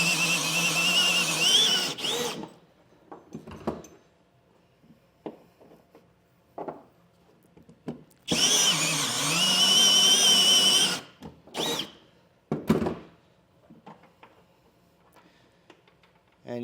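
A power drill whirs in two long loud bursts with short buzzy spurts between, enlarging a hole in metal with a high whine while fitting a B&W Patriot fifth wheel hitch to a Ford truck, close up, no talking.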